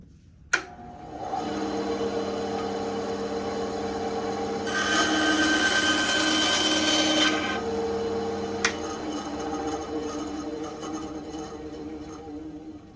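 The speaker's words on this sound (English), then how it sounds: "we'll take it over to the bandsaw and we'll get it cut so it can be mounted" A bandsaw hums with a steady whine, then rises into a louder, rougher burst of a few seconds as it cuts a length of wood for a Home Depot pumpkin vine creature prop, before settling back to its running drone. No one speaks.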